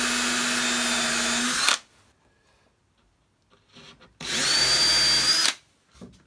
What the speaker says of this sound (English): once I've located the holes, I can go back and countersink them.